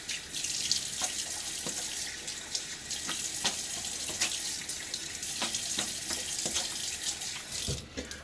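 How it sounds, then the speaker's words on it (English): Tap water runs steadily from a faucet while a safety razor is rinsed, a continuous close splashing hiss with brief louder spatters as the blade passes under the stream, no talk. "A little quick rinse."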